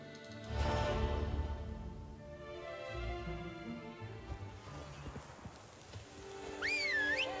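Roach, a horse in The Witcher 3: Blood and Wine, clip-clops and snorts close by, with hoofbeats and a brief whinny over a soft musical bed.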